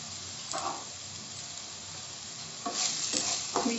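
Chopped green chili and ginger sizzle in dal tadka, a soft steady frying hiss broken by a few short stirring scrapes, close but fairly quiet.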